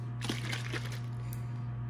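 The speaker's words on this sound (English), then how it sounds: "Pour a little bit of water in my cup." Water pours into a cup in a short steady stream, a bright trickling splash over a low constant hum.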